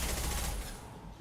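Dense, sustained gunfire from the video game Mass Effect 2, a loud continuous burst of rapid shots that thins out slightly toward the end.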